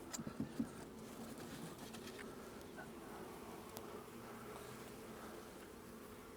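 Honey bees hum in a constant, soft drone around an open hive during an inspection, with a few light clicks and taps of handling near the start.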